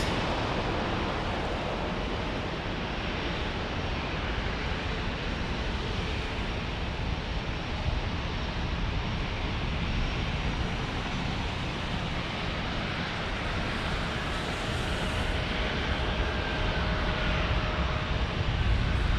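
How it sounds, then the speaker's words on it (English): Alaska Airlines Boeing 737 MAX arriving at San Diego, a continuous broad jet engine roar that holds steady and loud throughout, with a faint whine near the end. "Ah, 737 MAX arriving."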